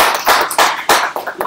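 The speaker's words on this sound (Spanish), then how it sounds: "démosle un aplauso al maestro" Brief applause at a space-weather seminar rings out from a small audience, a few close, uneven claps in quick succession, loud and dry with no voices over them.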